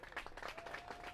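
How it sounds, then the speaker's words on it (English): A warm round of applause from the crowd at a ballpark in Ashburn during a Slovenia versus Greece baseball game: a soft, steady wash of scattered clapping heard from a distance, brief and even. "a warm round of applause rings out around the ballpark from all sides"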